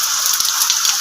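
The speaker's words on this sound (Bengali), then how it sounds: "শ্রাবণ মাসে জন্মদিন ওদের হলেই এইভাবেই ঠিক বৃষ্টি হয়" Steady rain falls during a monsoon-month birthday, a continuous close hiss of drops with a faint patter throughout the short stretch.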